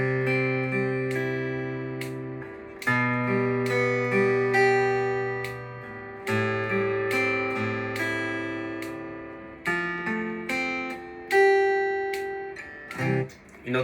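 Flatpicked guitar chords ring out in a steady rhythm across four bars, each change marked by a crisp attack, played alone and fairly close.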